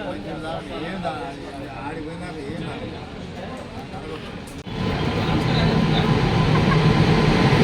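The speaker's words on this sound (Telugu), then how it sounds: "ఇంకా ట్రైన్ అయితే వచ్చేసింది" Talking over a low rumble, then a sudden shift to a louder, steady roar and rattle as a train arrives at a station close by, continuing to the end.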